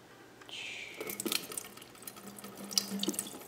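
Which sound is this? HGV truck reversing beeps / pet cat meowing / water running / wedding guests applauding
water running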